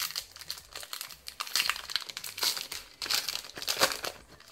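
Foil Yu-Gi-Oh! booster pack wrappers from The Dark Side of Dimensions movie pack are torn open and crinkled, giving loud, continuous crackling and tearing bursts close up, with no talk.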